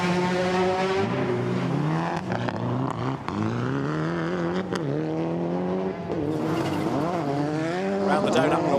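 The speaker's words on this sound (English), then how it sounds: "There's the donut, so round it goes Jason Leckley, beautifully controlled." Audi quattro race car spinning a controlled donut at a speed event, a continuous loud engine roar with shifting, looping pitch and tyre squeal throughout, commentary running beneath.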